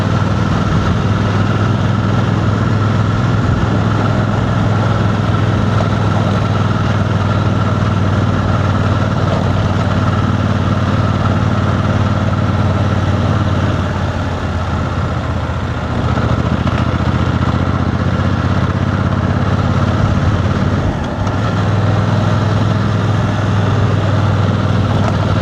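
A BMW 900 GSA motorcycle engine drones steadily while climbing a hill road, a loud continuous low rumble with a brief dip in revs partway through and no voices.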